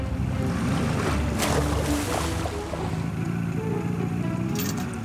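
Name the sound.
ocean waves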